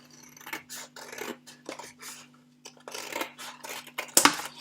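Scissors snip through card to trim the base of a small castle box, a run of short crisp cuts with a sharper, louder snip near the end, close and quiet over a steady low hum.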